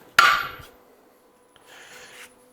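A single sharp metallic hammer blow on a chisel while fitting an LSA supercharger to a Square Body truck, ringing briefly, followed by a faint scrape.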